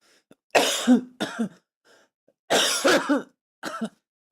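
Several harsh coughs in two bursts, close and loud, with short pauses between them and a few quieter breaths.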